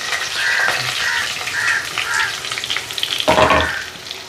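Curry leaves frying in hot oil for a shallot prawn gravy, giving a loud, close, continuous sizzle that flares up toward the end, with stirring and faint birds calling in the background.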